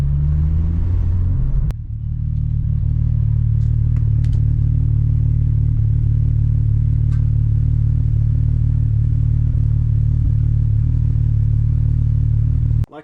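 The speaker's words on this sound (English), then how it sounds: "VR6 sounds my favorite, absolute favorite. This thing sounds phenomenal." A modified VW MK4 VR6 wagon with 268 cams, intake and exhaust idling, a deep steady engine rumble close by after a brief revving at the start, holding evenly until it cuts off at the end.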